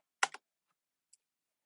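A couple of quick keystrokes clatter on a computer keyboard, close and crisp, followed by a single faint tap amid near silence.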